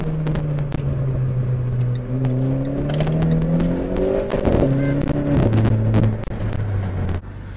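A Renault Clio 4 RS drives along the road, its engine rising and falling steadily through gear changes with a close, continuous drone under road noise.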